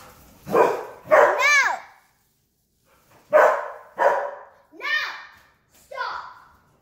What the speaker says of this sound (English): Dogs were fighting.